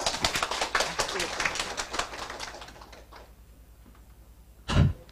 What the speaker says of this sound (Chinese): 我们现在就来掌声欢迎